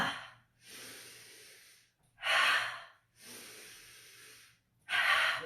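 Deep breathing exercise with loud exhales, alternating long breathy inhales and forceful airy exhales in an even rhythm, close and clear with no talk.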